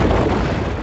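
Explosion in the video game Asura's Wrath, a single loud, dense roaring burst of broadband noise lasting under a second, close and full without a distinct attack.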